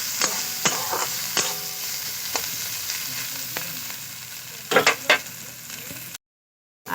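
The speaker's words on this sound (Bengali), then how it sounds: "আবারও পেঁয়াজ গাজরের সঙ্গে খুব ভালো করে রসুন আর আদা ভেজে নেব।" Onion, carrot and nuts fry with grated garlic and ginger in a pan: a steady close sizzle with repeated sharp stirring scrapes, a cluster of louder scrapes near the end, then a brief silence.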